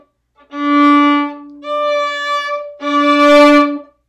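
Violin playing an in-tune open D and a third-finger D so the notes ring together, three sustained bowed tones over about four seconds, resonant and clear with a steady low drone, played alone without talk.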